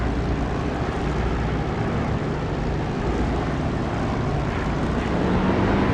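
Steady, loud propeller aircraft engine drone from a plane on final approach in the DCS flight simulator game, a continuous broadband roar with no pauses.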